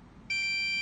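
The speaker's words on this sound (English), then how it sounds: "When the hand is sensed, Tobbie 2 beeps louder" A single sharp electronic beep from a Tobbie II micro:bit robot kit starts abruptly and holds as a steady high tone, loud and close, over faint background noise.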